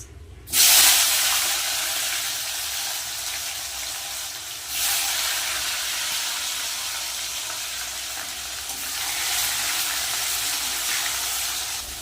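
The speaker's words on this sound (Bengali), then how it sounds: "দিয়ে দেবো কেটে রাখা টমেটো" Chopped tomatoes drop into hot oil with whole garam masala and bay leaf in a pan for aloo kofta, setting off a sudden loud hissing sizzle that settles into a steady spitting fry, surging again midway and near the end.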